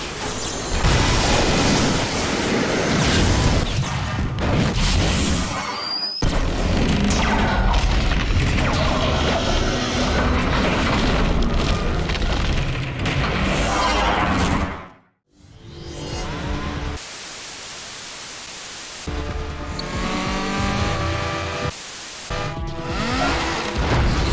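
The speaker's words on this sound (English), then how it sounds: "Finally, the bridge is destroyed." A bridge blows up in the video game Transformers: Fall of Cybertron, a long run of loud rumbling blasts and crashing debris, broken by a brief silence before more booming explosions.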